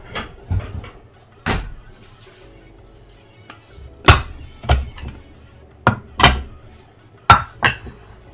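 Metal pie pans clink and clatter on a kitchen counter while a breading station for shallow-fried lamb is set up, a series of sharp, close metallic knocks spaced irregularly against a quiet background.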